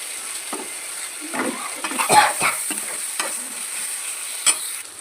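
Ground onion and ginger paste sizzles in a pan for a chicken gravy curry, crackling steadily at close range with scraping stir strokes and a few louder spatters.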